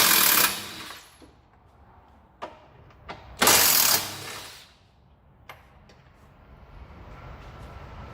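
A ratchet removing the battery box bolts on a Ford F-150 2WD truck with a 3.5 EcoBoost engine, heard as two loud bursts of fast clicking with a few sharp metallic knocks between them and quieter shop background afterward.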